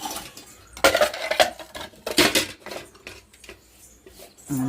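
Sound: washing dishes in a kitchen

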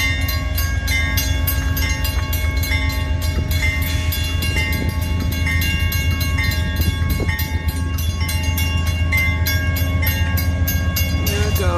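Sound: Amtrak passenger train passing

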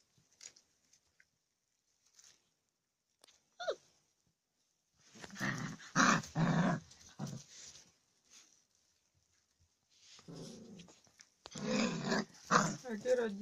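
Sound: Alabai puppies growling while playing

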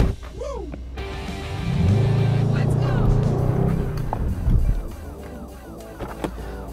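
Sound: AMG GT 63S launch-control acceleration start

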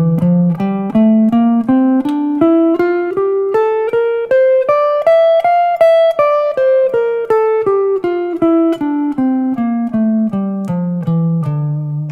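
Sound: D natural minor scale played on guitar

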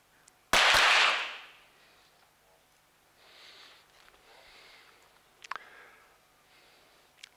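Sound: 25m pistol shots in shooting competition final

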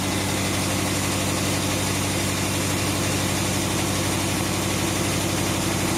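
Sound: Willys truck engine idling after rebuild, lifter noise

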